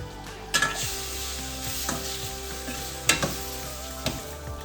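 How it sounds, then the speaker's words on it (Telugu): Tomatoes fry in oil in a pan with a steady, close sizzle, broken by several sharp scraping clinks as a spoon stirs them. "పాన్లో ఆయిల్ వేసుకొని టమోటా ఫ్రై చేసుకున్నామండి."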